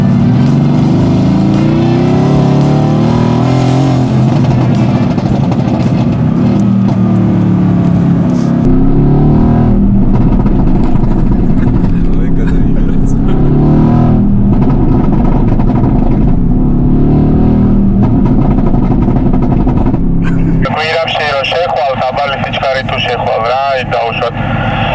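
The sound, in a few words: Mercedes-AMG GT sports car engine revving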